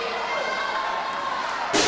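A wrestling crowd at a street fight match, a steady wash of voices roaring and chanting, ending in a sharp loud burst at the close.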